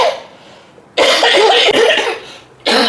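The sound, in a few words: person coughing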